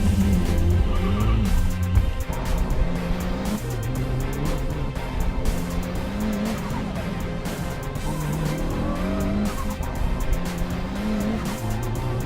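A race car laps an autocross course at COTA, its engine loud and continuous throughout, the pitch rising and falling with shifts and corners, with occasional tire squeal.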